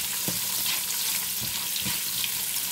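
White onions sauté in a pan with a continuous close sizzle, broken by a few soft stirring scrapes, with no talking.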